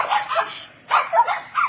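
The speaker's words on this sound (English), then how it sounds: "Oh, they just want to bark." Several dogs bark in loud, overlapping bursts at close range, with a short pause partway through before the barking resumes.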